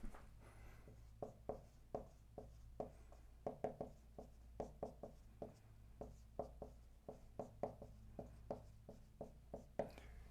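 Pen or pencil writing by hand on paper while a calculus problem is worked out: quiet, close scratching strokes in quick irregular bursts, steady throughout with no talk.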